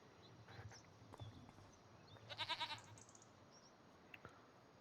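Sheep and goats in Farming Simulator 25 give a brief quavering bleat midway, with a few soft scattered clicks and farm ambience around it and no talking.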